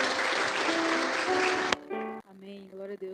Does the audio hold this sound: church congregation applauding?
yes